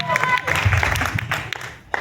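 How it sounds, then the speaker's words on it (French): A small audience claps and cheers for a dancer in a brief burst of applause, with voices mixed in among the clapping. "On peut l'applaudir?"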